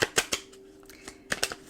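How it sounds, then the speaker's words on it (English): Tarot cards from an Aquarian deck being shuffled by hand, giving sharp, close riffling snaps in two quick bursts of three with a quieter stretch between. "I'll shuffle one more time"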